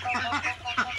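Ducks and chickens on a poultry farm keeping about 300 birds, close, loud honking quacks in quick overlapping bursts over a brief moment.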